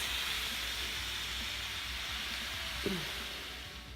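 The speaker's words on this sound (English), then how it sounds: "I'm just going to hit and let the steam out. You see how much steam there is?" Steam venting from an Instant Pot pressure cooker valve, a loud steady hiss that runs unbroken and eases slightly at the end, close by with a brief small clunk midway.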